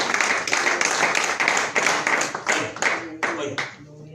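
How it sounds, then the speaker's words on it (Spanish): A church congregation applauds during a sermon, with dense, steady clapping near and loud that thins into scattered claps at the end, and voices calling out over it. "Denle un aplauso al Señor."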